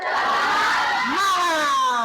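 A school class shouting a spirit cheer together in a loud, sustained group chant, clapping barely distinct, with a falling then rising collective cry of young voices in an Islamic religious education lesson.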